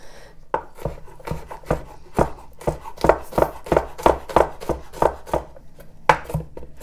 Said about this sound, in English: again, just a rough chop.